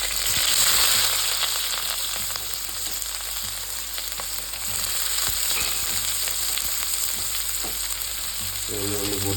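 Big onions sauté in hot coconut oil, a loud, steady sizzle with occasional stirring scrapes, close by and without talk.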